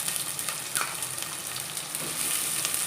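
Onions and chopped bottle gourd pieces fry in hot oil with a steady, moderately loud sizzle and a couple of faint stirring clicks.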